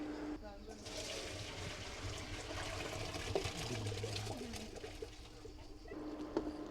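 Pasta cooking water drained out of a pot while making a summer pasta dish, a steady rushing pour running throughout at moderate level, with kitchen clatter and a few small knocks near the end.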